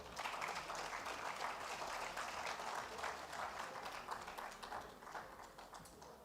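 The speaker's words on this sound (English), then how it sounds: "I think let's give them a big round of applause again." Applause from the audience at a host agreement signing ceremony in Lagos, Nigeria, a soft distant and steady patter of many hands that fades a little toward the end, with no talk over it.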